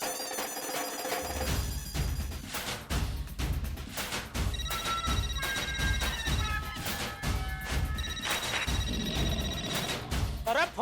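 A telephone rings repeatedly in a series of bright electronic trills, standing out above a busy background of lively music and household commotion.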